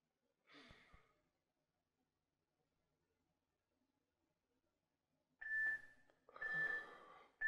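Audible breaths accompany a seated yoga twist: a soft sigh-like exhale early on, silence, then two louder breathy exhales with a faint tonal whistle near the end.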